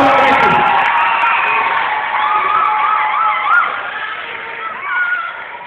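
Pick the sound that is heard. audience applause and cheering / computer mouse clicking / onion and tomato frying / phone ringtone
audience applause and cheering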